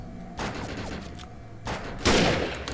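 Gunfire in the video game Defiance, a short burst of rapid shots followed by a louder, denser volley near the end, sharp and close against a low background hum.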